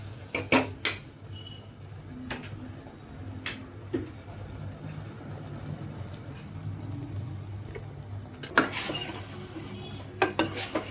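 Cucumber being stir-fried in a pan, with repeated sharp spatula clanks against the metal over a low sizzle, the knocks coming in irregular bursts near and clear.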